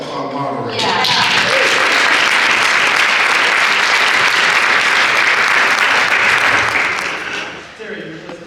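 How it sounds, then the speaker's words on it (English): Sustained audience applause for a panel moderator at a legal panel discussion on mass shootings, loud and steady for about six seconds after a brief spoken lead-in, then tapering off as a voice resumes. "But Terry, I want to give a big round of applause to our moderator."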